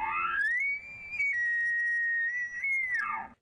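A 10-year-old boy imitates an elk bugle with his voice, a single piercing whistle-like call that rises, holds a high pitch for about two seconds, then drops away, close and clear against a quiet background.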